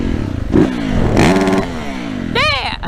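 A Yamaha YZF 450 four-stroke dirt bike is ridden hard, its engine blipping and revving in quick rising bursts, close and loud, with a final sharp climb in pitch.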